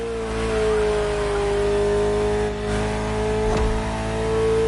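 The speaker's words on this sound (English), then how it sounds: "the fastest Ferrari ever created" A Ferrari sports car engine revs loudly and close, a sustained throaty drone that holds its pitch with slight swells and a brief dip midway before climbing again.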